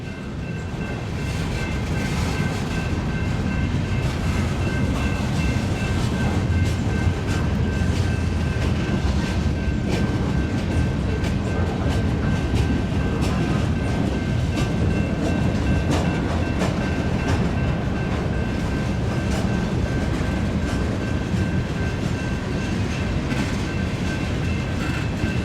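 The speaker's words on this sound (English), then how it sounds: "we're coming up on the back end of that mixed freight, and I think he's heading on out now." A Union Pacific mixed freight train rolling past at a rail yard junction, a loud continuous rumble with rhythmic wheel clatter and a faint steady squeal, sustained close by for the whole stretch.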